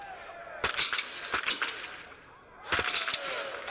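Biathlon rifle shots at a shooting range during a mixed single relay race, a few sharp cracks spread across the clip, heard at a distance under the ambient noise of the venue.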